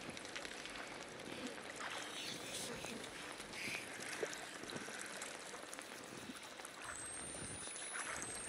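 Water sloshes faintly around a character lying in shallow water in the video game Outlast 2, a quiet continuous lapping and trickling with a few soft splashes.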